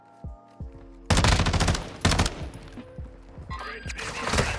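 Gunfire bursts in Call of Duty Modern Warfare 2 on the Mikado map, probably a Tempus Razorback assault rifle: a few faint shots, then loud rapid bursts of automatic fire with short pauses, ending in more shots under game noise.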